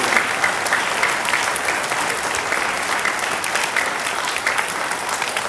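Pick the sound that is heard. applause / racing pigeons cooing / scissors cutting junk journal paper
applause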